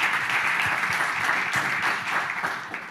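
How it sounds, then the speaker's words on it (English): An audience at a talk on hardware repair and the right to choose one's devices applauds the speaker, a thick, even roar of clapping that holds steady and then begins to fade toward the end. "Yeah, please applaud."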